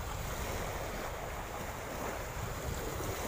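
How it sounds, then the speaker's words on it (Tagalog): Strong wind blows by the sea at Atimonan, Quezon, during fishing, a loud continuous roar of gusting air and buffeting microphone noise with surf mixed in, steady throughout. "Lumakas kasi yung hangin eh"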